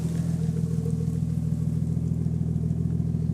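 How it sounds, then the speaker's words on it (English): A 1997 Nissan Stagea RS-Four idles through an aftermarket Blitz NER spec exhaust with a deep, steady rumble, low and throaty, holding an even drone throughout with no talking. "have a listen at the exhaust. It is aftermarket"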